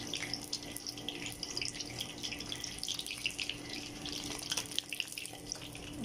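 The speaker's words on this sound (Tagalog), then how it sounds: "May kling-kling pang tubig." Tap water runs steadily into a sink at a low, even level, a continuous splashing hiss with small drips and no talk.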